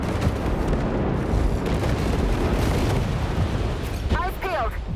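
Missile explosions in War Robots: Frontiers, a continuous barrage of rumbling booms and bursts, loud and dense, with brief chirping game sounds near the end.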